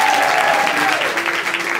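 A crowd at an open-stage performance claps continuously to welcome arriving spectators, a close, dense wash of applause with a faint tonal whine running beneath it.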